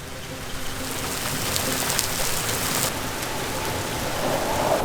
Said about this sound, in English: I need to get inside because it's actually downpouring